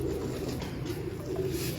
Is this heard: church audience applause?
no